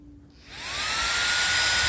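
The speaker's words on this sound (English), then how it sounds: "As you see, the fans came on there. Now these are pretty noisy" Cooling fans of an Imalent MS18 high-output flashlight spin up from quiet, climbing in pitch into a steady, loud, high whine that holds to the end.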